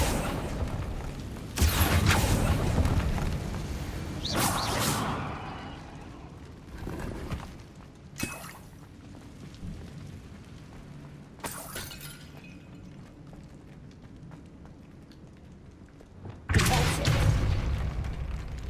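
A Confringo blasting spell in Hogwarts Legacy sounds as several sharp, shattering explosive bursts spread across the clip, each one loud and close with crashing debris, and low game ambience fills the gaps between them.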